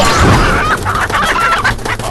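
Chickens cluck and squawk loudly nearby, with busy overlapping calls and scuffling noise, no speech.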